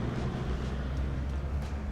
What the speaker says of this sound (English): now there's a semi.